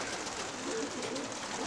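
Racing pigeons bred from top flyers coo in a loft, a soft continuous murmur of many birds close by, steady throughout with no talk.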